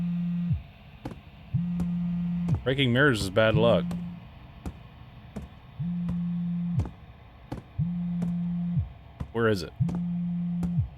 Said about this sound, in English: My phone's ringing.